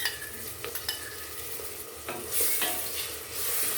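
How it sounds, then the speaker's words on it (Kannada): Hyacinth beans frying in oil in a pan for a lunch-box rice bath, close sizzling under repeated scraping stirs of a spoon against the pan, without any talking. "ಇದು ಎಣ್ಣೆಯಲ್ಲಿ ಒಂದು ಸ್ವಲ್ಪ ಚೆನ್ನಾಗಿ ಫ್ರೈ ಮಾಡ್ಕೊಳ್ಳಿ."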